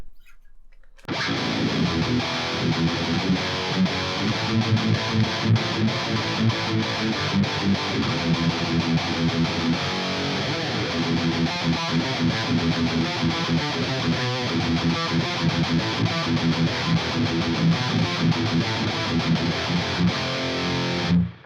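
Heavily distorted electric guitar runs through an STL Tonality Josh Middleton amp simulation, playing a dense chugging riff for about twenty seconds after a short silent lead-in, loud and sustained with no talking.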